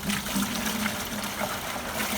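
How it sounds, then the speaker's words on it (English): Hot water pours steadily into a tie-dye soaking bucket with a soft, continuous rushing splash, fairly quiet and close by. "I'm gonna pour this into my soaking bucket right here."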